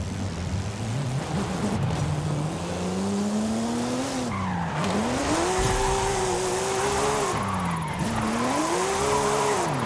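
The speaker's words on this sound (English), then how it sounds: "Not bad for a Porsche, I'm telling you. GT2 RS drifting?" Porsche GT2 RS drifting in Forza Horizon 5, a loud, continuous engine drone with wavering pitch that dips and climbs through gear changes, mixed with sustained tire squeal from sliding, close and unbroken.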